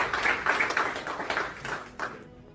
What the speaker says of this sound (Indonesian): Tepuk tangan untuk ibadah kita